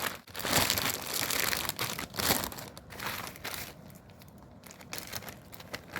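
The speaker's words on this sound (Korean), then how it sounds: "같이 동봉해드린 소금을 지퍼팩에 넣어 이 얼음에 넣어주세요." Coarse salt poured into a plastic zipper bag set in ice for homemade ice cream, giving a loud close crinkling and crunching of plastic and grains that gradually softens, with no talk.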